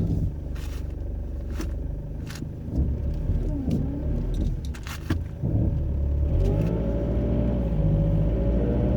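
A car rolling slowly on its wheels, a steady low rumble of tires and engine close by with occasional scrapes and knocks, continuous throughout.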